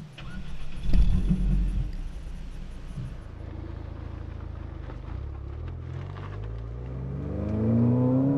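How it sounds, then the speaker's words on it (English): Ford Fiesta ST turbocharged engine heard from inside the car, a loud burst at first that settles into a steady drone and then builds in pitch as the revs climb toward the end. "But then when you get the turbo going, that's the reason you want to buy it. And this engine just loves to hang out at redline."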